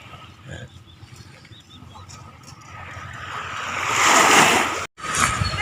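Waves wash up on the shore, building into a loud surging rush that briefly cuts out before returning, with soft ambient noise earlier.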